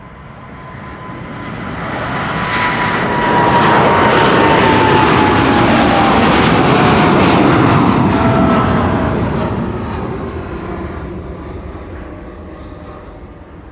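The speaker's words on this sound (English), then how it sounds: "This 787-10, 5 years old, first flight October 2019" Boeing 787-10 taking off at Amsterdam Schiphol, a loud jet roar that swells to a sustained peak with a falling whine, then gradually fades as it passes, with no speech.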